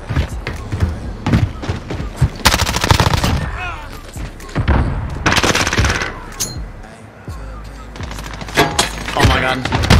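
Rapid bursts of CX9 submachine gun fire in a Call of Duty match, loud close automatic volleys broken by short gaps and scattered impacts, with occasional voice chatter underneath.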